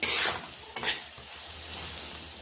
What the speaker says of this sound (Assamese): এয়া মছলাখিনি দি এইখিনি গোটাই ধুনীয়াকৈ লৰাই দিছোঁ।